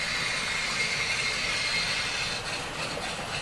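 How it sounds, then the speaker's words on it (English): Model trains run on a home layout, including a Black 5 and a Deltic, giving a steady, continuous rumbling hum of rolling wheels and motors with no pauses and no voices. "make sure the black 5 goes behind the station and not up the back of the Deltic train"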